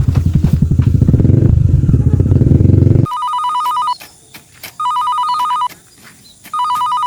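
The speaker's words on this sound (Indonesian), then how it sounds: "naon atuh HP teh disada wae" A mobile phone rings loudly with repeated bursts of an electronic ringtone separated by short gaps, following a few seconds of noisy motorcycle-like engine rumble and clatter.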